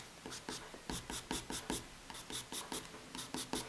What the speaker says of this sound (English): blending it out with the pencil by adding little hairs to the side